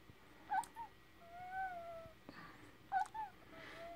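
Newborn puppy, about ten minutes old, giving faint high squeaks and whimpers: two short bursts of cries separated by a longer thin whine, fairly quiet with no talk.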